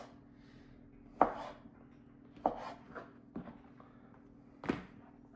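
A Swisstech knife with an AUS8 steel blade slices partly frozen meat, giving a few sharp, separate cutting thuds spaced seconds apart on a quiet background.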